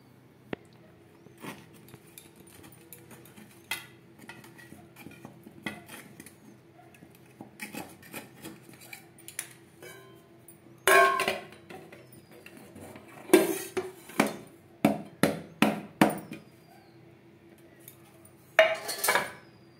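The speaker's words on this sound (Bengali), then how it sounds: "তার আগে একটা চামচের সাহায্যে চারদিকটা" A spoon scrapes and clinks around the edges of a baking pan to loosen a cooled mango cake. Faint scratching comes first, then louder, sporadic metallic scrapes and taps in bursts, with no talk.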